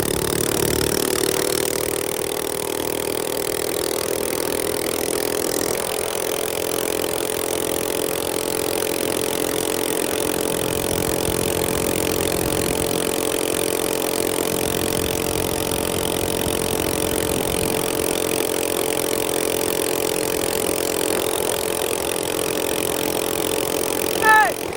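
A minibike engine runs at a steady high-pitched drone for the whole ride, loud and close, with a sustained buzzing whine and a brief swell at the end.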